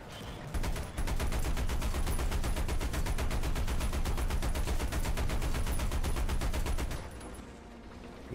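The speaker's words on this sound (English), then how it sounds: "See, he's shooting for that mantlet." Video game tank combat in War Thunder, with an M10 tank destroyer and a P-47, fills the clip with a long, steady stream of rapid, loud automatic gunfire that runs for about six seconds before cutting off.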